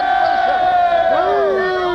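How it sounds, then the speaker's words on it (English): A dense crowd of Labour supporters outside St George's Hall on the 1964 general election night chants and shouts loudly in unison, voices overlapping in a sustained roar close by. "the crowd are here shouting, "We want Wilson!""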